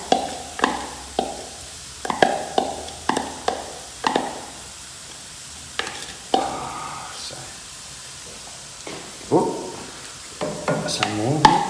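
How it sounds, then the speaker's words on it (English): Locally produced onion dropped into a hot pan on the stove, giving a soft sizzle under repeated sharp taps and scrapes of stirring in an irregular rhythm. "Beautiful sound of onion in a pan."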